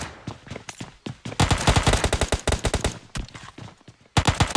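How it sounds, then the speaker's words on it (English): Rapid bursts of automatic video game gunfire crackle continuously, dense and loud, with overlapping shots and brief pauses between volleys. "We've got gunfire going everywhere."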